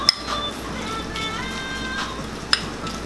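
Tuna mixture stirred in a bowl with a spoon, with two sharp clinks of the spoon against the bowl and soft scraping between them.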